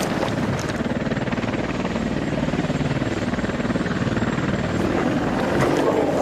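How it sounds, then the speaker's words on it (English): An attack helicopter over a combat zone in Afghanistan gives a loud, steady rotor throb with engine whine that runs continuously and unchanged. No gunfire stands out above the rotor noise. "That's the attack helicopter engaging just over there."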